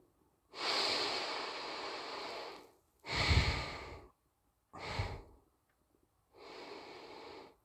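Four deliberate breaths in a breathing exercise: long airy exhalations and sharp nasal snorts separated by pauses, close and fairly soft, with no talking.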